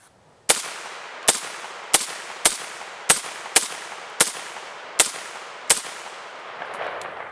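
An M1 .30 caliber carbine fires about nine sharp, loud single shots at uneven intervals of roughly half a second to a second, each crack trailing off in a brief outdoor echo.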